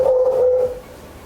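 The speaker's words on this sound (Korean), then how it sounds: "제가 한번 개 소리를 한번 켜보도록 하겠습니다." A recorded dog bark played through a phone speaker for iOS 14 sound recognition, a single short tonal yelp that fades within a second.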